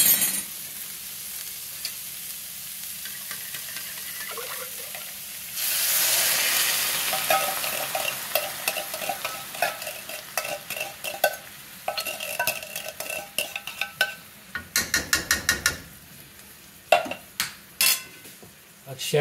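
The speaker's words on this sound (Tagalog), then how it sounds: "lagyan na natin ang ating gata" Coconut milk being stirred into kale laing in a pan, a low simmering sizzle with scraping spoon strokes against the pot, growing busier midway with clinks of utensil on metal and scattered knocks toward the end, no one talking.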